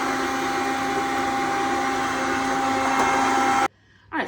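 Electric mixer whirring steadily while beating coconut macaroon batter with salt and cream of tartar, a loud constant motorized hum that cuts off abruptly near the end.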